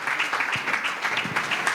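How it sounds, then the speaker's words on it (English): An audience claps steadily at a women's finance forum panel, a dense, continuous patter of many hands at moderate volume with no break across the short stretch. "You see, they are clapping."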